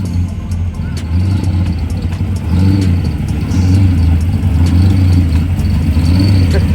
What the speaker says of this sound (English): Listen to the blower surge on it.